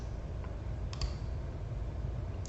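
A computer mouse clicks several times while someone works through a real-estate marketing web tool, producing short crisp clicks, including a quick double click, over steady low background hiss.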